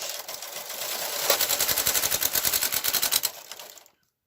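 A KH940 knitting machine carriage drawn across the needle bed in one steady pass, a close, loud run of rapid rhythmic clacks and whirring that stops abruptly after about four seconds.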